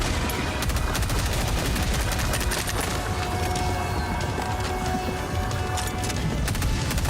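Breaker Incendiary shotgun fire in the video game Helldivers 2, a dense, continuous barrage of shots and impacts, loud and close throughout.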